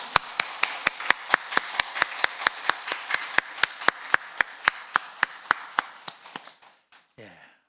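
A church congregation claps together at a Sunday worship service in sharp, evenly spaced beats, roughly three per second, loud and close, before fading out and ending in a brief scuffle.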